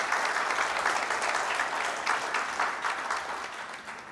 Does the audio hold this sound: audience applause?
yes